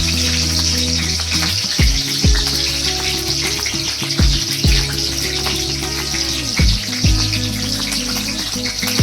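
Green chilies frying in hot oil give a steady loud close sizzle and crackle, with a low droning hum underneath and occasional sharp pops breaking through throughout, without any speech.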